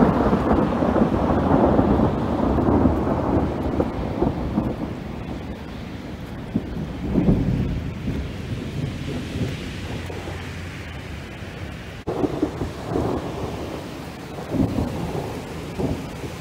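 Thunder rolls during a hailstorm in Milpitas, California, a long low rumble building and fading over steady rain and wind noise, with a sharper renewed burst near the end.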